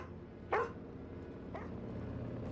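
A single dog gives a sharp bark, then a fainter second bark a second later, over a steady low background rumble in a tense post-apocalyptic drama scene.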